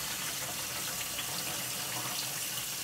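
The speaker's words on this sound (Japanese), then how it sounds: "さばいてる時についてた鱗とか、あとまだ身に残ってる骨がないか確かめながら真水ですすいで" Freshly filleted Japanese sea bass being rinsed under a steady stream of fresh tap water, a continuous close splashing gush with no speech.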